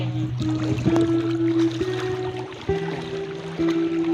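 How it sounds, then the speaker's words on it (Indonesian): A fast-flowing, flooded Cibeet river in Telukjambe Barat, Karawang, rushing steadily as a continuous close wash of water, with a low droning hum running beneath it throughout. "Ini aliran Sungai Cibeet, masih Kali Cibeet kencang alirannya."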